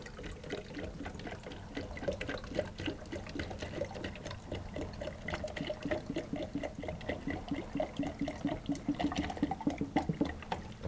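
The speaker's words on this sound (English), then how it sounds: "I'm going to pour some water in this plastic soda bottle" Water is poured into a plastic soda bottle in a steady, close trickle and splash, with the gurgle rising in busy fluttering pulses as the bottle fills.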